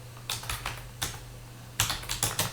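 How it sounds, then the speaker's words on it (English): Keys clatter on a computer keyboard in short irregular bursts of taps, close and crisp, separated by brief pauses. "we have to create a new one by just simply typing here vendor wire"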